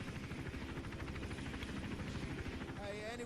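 A helicopter in the video game Hitman: Absolution hovers nearby with a steady, thick rotor chop and engine drone throughout, and faint voices surface briefly near the end.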